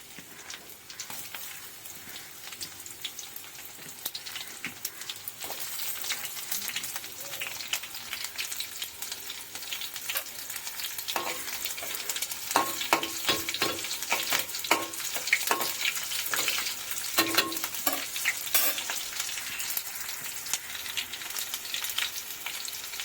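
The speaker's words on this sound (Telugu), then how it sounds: "నూనె వేసాను, ఎల్లుల్లిపాయలు వేసుకోవాలి ఫస్ట్" Garlic cloves hissing in hot oil in a pan, a steady busy crackle with intermittent metal spoon scrapes and stirring clatter through the middle stretch, fairly close and with no talking.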